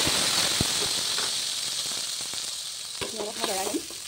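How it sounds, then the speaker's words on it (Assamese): Onion, garlic and chili paste frying in hot oil gives a steady loud sizzle and hiss, with a brief stir and a few clinks near the end. "এতিয়া মই যি পিঁয়াজ নহৰুৰ জলকীয়া পেষ্টটো বনাই থৈছিলোঁ সেই পেষ্টটো দি দিম।"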